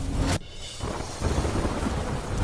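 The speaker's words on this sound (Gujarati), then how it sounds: "દેવભૂમિ દ્વારકામાં ધોધમાર વરસાદ થતા જળબંબાકાર" Heavy rain pours in Devbhumi Dwarka, Gujarat, and a loud thunder crack opens it before the downpour settles into a dense steady roar with rumbling swells.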